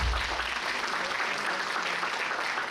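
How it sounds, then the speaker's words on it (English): A roomful of people applauding at a college entrepreneurship summit, a dense, even wash of clapping that stays loud throughout. "You can clap for them."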